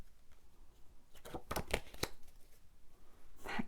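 Tarot cards are shuffled by hand, a short flurry of crisp riffling snaps and taps clustered together, then a final burst, close and fairly quiet with no talking.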